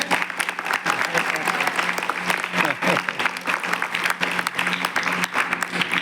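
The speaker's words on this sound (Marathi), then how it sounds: "एकदा जोरदार टाळ्या वाजवा त्याच्यासाठी" Loud, steady applause from a crowd, continuous clapping throughout with no pauses.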